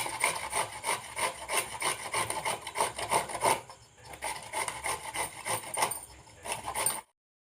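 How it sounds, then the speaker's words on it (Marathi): Indian gooseberries (amla) grated by hand on the coarse side of a grater give steady, rapid rasping strokes, close and fairly loud, with a short pause midway before the scraping resumes. "मी इथे जाड छिद्राच्या बाजूनी सगळे आवळे इथे मी किसून घेते"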